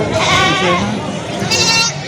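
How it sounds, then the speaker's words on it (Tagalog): Goats bleat at a goat market in Padre Garcia, Batangas, with several loud, wavering calls close by over a busy crowd hum, one long cry at the start and another near the end. "Ito yung mga pambenta ni Kuya na kambing."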